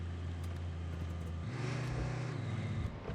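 A vehicle in the video game RoadCraft, stuck in mud in low gear, hums with a low engine drone. Partway through, its pitch jumps up into a strained rev, then drops back. The sound is fairly quiet and there is no talking.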